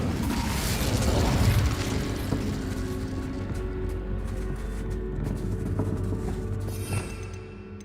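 A fire spell cast in Hogwarts Legacy, heard as a dense whooshing burst with low rumbling booms that swell in the first two seconds and then settle into a steady crackling roar, loud and close.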